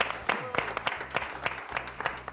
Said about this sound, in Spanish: ¡Fuerte el aplauso, muchachos! ¡Un aplauso fuerte,